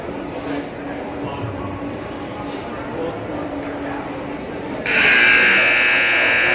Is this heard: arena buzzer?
yes